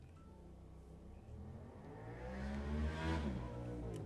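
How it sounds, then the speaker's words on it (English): A car drives past nearby, its engine noise rising to a peak and fading slightly as it goes by, with no talking. "Noisy car, sorry for noisy car."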